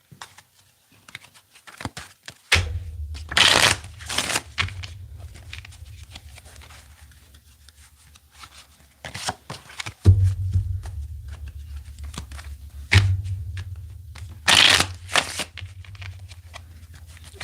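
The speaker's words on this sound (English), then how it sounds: "Let's get 2 more shuffles." Tarot cards are shuffled by hand in several quick riffling bursts separated by quieter pauses, close and crisp, with no talking.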